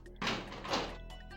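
A door in the GoldenEye video game opens with two quick sliding mechanical whooshes, the first starting abruptly and the second following soon after, fairly close and clear with no talk over it.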